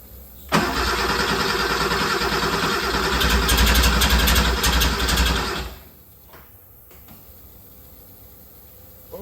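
A 1974 Porsche 911S engine cranks and catches, roaring loudly for several seconds with sputtering revs, then cuts out, leaving quiet mechanical noises.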